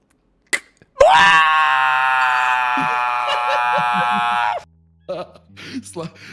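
A voice imitates another man screaming in pain, a loud sustained strained cry lasting several seconds that breaks off into quieter vocal sounds.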